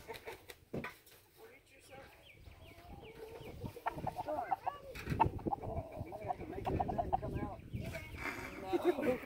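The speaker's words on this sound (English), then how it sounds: "Grab the rooster, stick it through into the cage" A rooster clucks and squawks while being caught by hand, agitated calls rising and growing louder over several seconds amid scuffling, with people talking over it.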